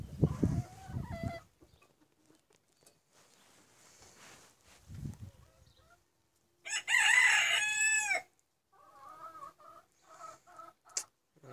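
A rooster crows once, loud and near, in a drawn-out call, with clucking and other faint farmyard bird sounds before and after.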